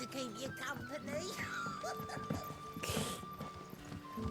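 A dog in the video game Final Fantasy XVI barks and yips in short bursts mixed with whimpers, tangled with hoof clops, music and talk in a busy scene.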